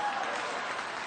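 Faint, distant crowd applause and cheering at a church gathering, a steady wash of clapping heard briefly and low in level with no talk on top.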